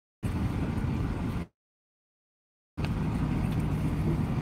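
Car interior road noise, a steady broadband rumble heard in two stretches separated by a second of silence, close and continuous, with no voices.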